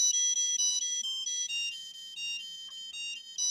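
An Arduino IoT Cloud project with an animated skull, triggered from a phone, plays a bright, beeping electronic melody in short repeated tonal phrases, like a ringtone, fairly clear and steady with no voices.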